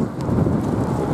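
Steady rain hisses and patters in a dense, even wash of noise, fairly close and constant throughout the short moment with no voices.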